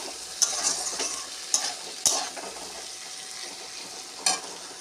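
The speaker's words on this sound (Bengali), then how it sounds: "একটুখানি হলুদ দিয়েছি, তাতে আলু ভাজাটা দেখতে ভালো লাগবে।" Potatoes with a little turmeric frying in a pan for a fish and raw tomato chorchori. A steady sizzle is broken by several sharp stirring scrapes, close by, with no talk.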